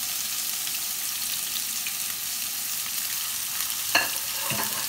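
Chopped onion and garlic fry in a pan for Italian meatballs with tomato sauce, giving a steady, close sizzle throughout, with a brief clink of stirring near the end.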